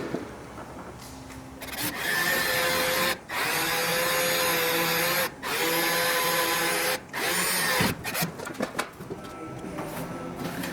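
A drill whines in several sustained bursts with brief pauses between, loud and close, with a high grinding tone as it bores holes into an aluminum aircraft wing skin.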